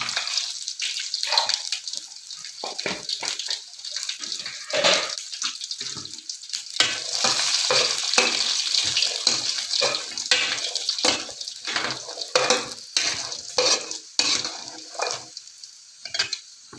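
Cumin seeds and peanuts frying in hot tempering oil for pulihora, uneven spitting and crackling bursts with splashy, watery-sounding sizzles that rise and fall, close to the microphone with no talk.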